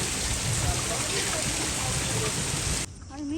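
Heavy rain pours down outdoors in a dense, loud, steady hiss that cuts off abruptly near the end, leaving a quieter background.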